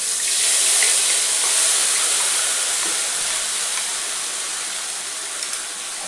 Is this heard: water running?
yes